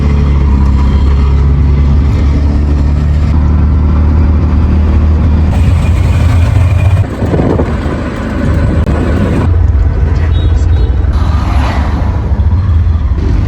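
A car drives with its engine rumbling low and loud from inside the cabin, steady road noise with a brief dip midway and no talking.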